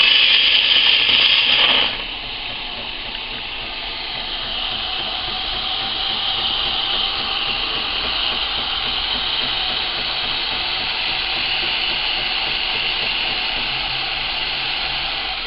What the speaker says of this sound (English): we have got a manual switch that we use when we need to froth milk